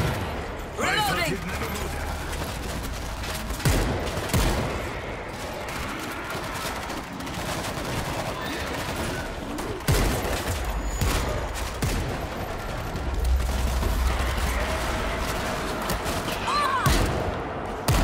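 Sustained rapid fire from a mounted gun in World War Z rattles on continuously under shouted voices, with chaotic battle noise and occasional heavier bursts throughout.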